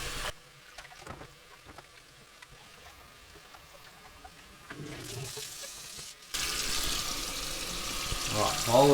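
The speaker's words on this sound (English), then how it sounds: "while the water is filling there on that side" Tap water runs into a copper still during cleaning and sanitizing before first use, a steady low splashing that later swells into a louder, brighter rush of flow.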